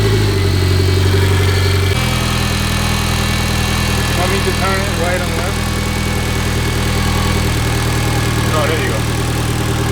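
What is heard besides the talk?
Mitsubishi Evo X 4B11 engine idling after swap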